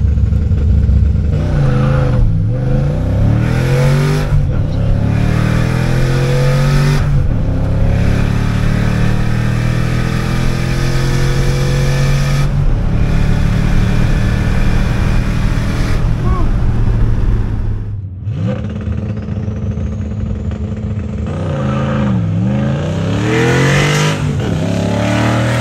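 A twin-turbo Ford Crown Victoria with a junkyard engine launches at a drag strip, its engine roaring loud and close as it revs and climbs through the gears, then dips and surges again.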